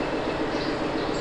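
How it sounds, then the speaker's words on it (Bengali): An Ooty Nilgiri toy train engine runs with a low, steady rumble and a soft mechanical rattle, moderately quiet and continuous without any talk. "ট্রেনের ইঞ্জিন"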